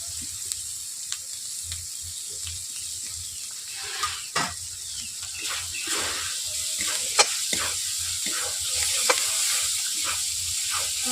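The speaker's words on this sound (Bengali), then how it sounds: "মশলাগুলোকে আমি পাঁচ মিনিট ধরে কষিয়ে নিচ্ছি" Spice paste fries in hot oil for a curry of rohu fish with potato and khamalu yam, a continuous soft sizzle broken by scattered scraping taps as a spoon stirs it through the pan.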